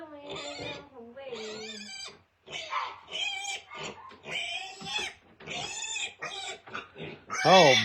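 A pet pig squeals and grunts close by in a home, its calls mixed with a voice talking throughout and a loud rising squeal at the end.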